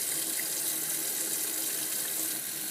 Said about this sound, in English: And then rinse off both the mouthpiece, the inside of the mouthpiece.